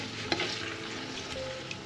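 Crushed, pre-boiled tomato simmers and sizzles softly in a pan for a chickpea stew, a faint steady hiss with a light scrape or two near the start, quiet and close, no voices.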